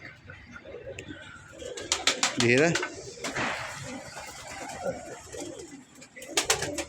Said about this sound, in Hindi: ये हैं कबूतर, ये तूने वाकई कबूतर दिखाए हैं।